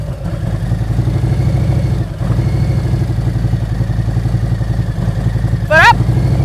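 A motorcycle engine runs steadily at a low idle-like putter as the rider eases the clutch out to roll to a smooth stop, with a brief squeaky chirp near the end.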